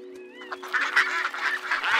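Ducks quacking in a short run of nasal honks, close and moderately loud, following a brief whistly tone.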